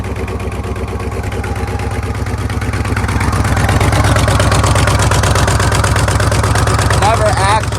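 A 1972 Buick Electra 225 engine idles steadily up close with a rhythmic low chugging, growing slightly louder midway; a faint squeak appears near the end.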